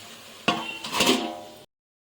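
A metal lid is set down on a cooking pot of brinjal curry, giving a sharp clank followed by a brief rattling clatter as it settles, close and fairly loud, then silence.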